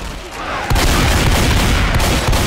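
Dense, continuous gunfire in the zombie shooter Left 4 Dead 2 during a co-op round, a loud sustained burst of rapid shots starting abruptly after a quieter moment and running to the end.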